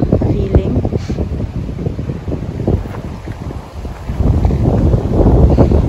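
Steady cold wind rushes and buffets against the microphone outdoors in Norway, with low rumbling gusts that swell louder toward the end; no one speaks.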